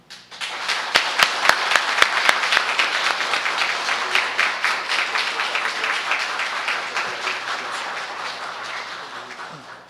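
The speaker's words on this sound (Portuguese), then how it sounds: "eu quero pedir uma salva de palmas para a comenda Dr." A hall audience at a solemn municipal council session for the launch of the Dr. Jorge Peregrino commendation breaks into loud, sustained applause, sharp individual claps at first merging into a dense roar that slowly fades.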